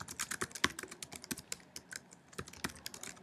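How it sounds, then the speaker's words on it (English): Typing on a computer keyboard, a quick run of crisp close key taps at an uneven rhythm, fairly quiet with no talking. "notice that I can click in here and I can type any words"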